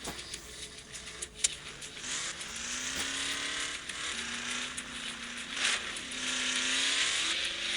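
A sports car in an off-road driving video game, its engine whining steadily with rising and falling pitch as it revs and shifts, with the loudest push toward the end and no talking.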